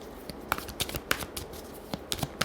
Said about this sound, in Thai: พอดียังไม่ได้หยิบไพ่ไว้เดี๋ยวหยิบแป๊บเดียว